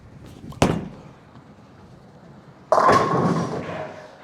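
A DV8 Brutal Collision bowling ball lands on the lane with a sharp thud and rolls quietly, then smashes into the pins with a loud, clattering crash that slowly fades.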